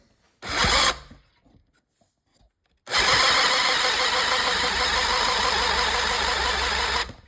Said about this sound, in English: This is choking my drill down.